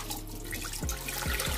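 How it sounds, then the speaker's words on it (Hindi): About two glasses of water are poured into a cooking pan holding mutton for palak gosht, a close, steady splashing gush with a few heavier sloshes near the end. "इसमें मैं तकरीबन दो ग्लास पानी ऐड करूंगी"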